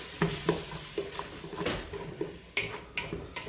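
Garlic frying in oil and a little water in a pan, a soft continuous sizzle broken by repeated spoon scrapes and taps at an uneven pace, close and fairly quiet.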